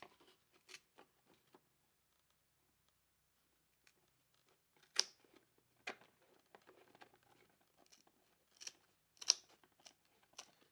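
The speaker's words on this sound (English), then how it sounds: "we should be able to just cut across this line where you can see the like bumper type decal is." Scissors snip slowly and quietly along a line on an Arrma Granite RC car body, trimming a worn plastic shell in short, sparse cuts with pauses and crinkling plastic between them.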